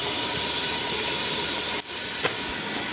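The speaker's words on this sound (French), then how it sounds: "mon huile est chaude. Je vais venir jeter les oignons," Onions and garlic hit hot oil with a loud, broad hiss that fills the space evenly, with a short dip and a couple of small clicks near the end.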